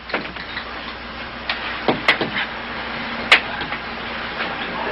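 A prototype motor built of wood, aluminum and brass runs with an uneven ticking and clicking, scattered taps and a couple of sharper knocks over a steady faint hum.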